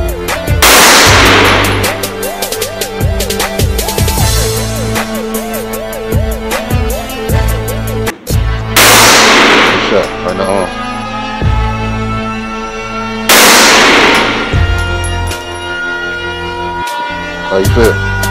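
Glock 17 and Glock 21 Gen 4 pistols fire at a shooting range, several loud sharp shots spaced seconds apart with ringing decay, while people talk between them.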